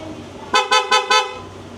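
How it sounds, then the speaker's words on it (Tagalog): Four short, bright toots from an aftermarket PIAA horn on a Honda Click V2 scooter, in quick succession, close by, over a low steady engine idle. "Busina."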